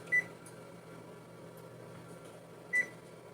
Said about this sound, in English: Set the timer for 2 hours so I don't forget.